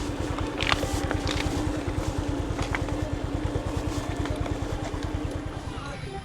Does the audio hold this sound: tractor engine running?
yes